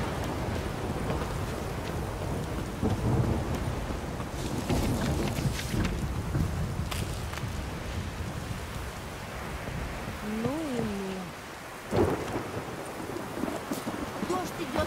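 Steady rain and wind hiss in The Witcher 3: Wild Hunt, with a sharp rumbling burst like thunder near the end and a brief voice partway through.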